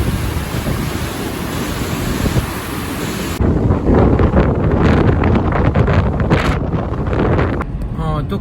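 Strong wind buffeting a microphone during a long road drive in open country, a loud continuous roaring rush that grows rougher and gustier midway, with a voice partly heard under it.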